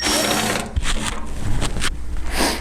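A power drill backs self-tapping screws out of a metal chimney pipe, loud and close, its whirring bursts rising and falling in uneven spurts with brief pauses between.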